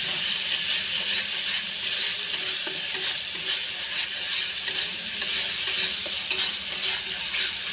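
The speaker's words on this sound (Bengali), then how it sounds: "মশলাটা ভালো করে কষিয়ে নেব।" A spice paste for a katla fish curry is stirred and fried in a pan. A continuous, bright sizzle runs throughout, with scattered scraping and ticking strokes from the spoon, heard up close.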